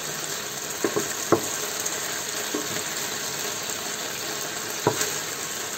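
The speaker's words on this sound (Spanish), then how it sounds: "Y aquí en este mismo aceite vamos a hacer nuestro sofrito." Sofrito for arroz montañés fries in oil left in a pan after the meat, a continuous soft sizzle with a few sharper clicks and scrapes scattered through it.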